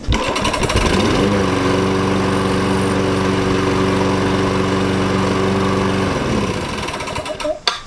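A Troy-Bilt push lawn mower engine running steadily after a carburetor replacement, a loud close droning putter held for several seconds before it winds down and shuts off with a clunk.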